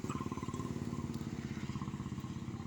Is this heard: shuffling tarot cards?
no